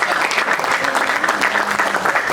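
Audience applause at a French-language motivational conference on emotional healing, a steady dense clapping from a large crowd, loud and continuous throughout with no pauses.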